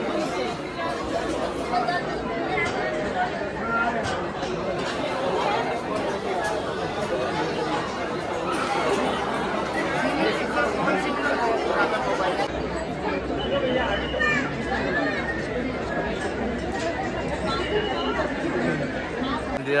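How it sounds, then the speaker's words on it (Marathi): A dense crowd murmurs in front of the Grishneshwar temple, a steady hubbub of many overlapping voices that stays at an even level throughout, with no single voice standing out. "खूप गर्दी"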